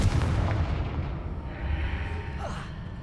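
A Confringo blasting spell in the Hogwarts Legacy video game goes off as a booming, artillery-like blast that fades into a rumbling decay, with a fainter secondary whoosh near the end.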